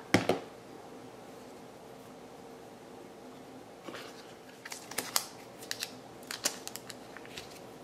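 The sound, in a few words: cutting ribbon off with scissors after tying a bow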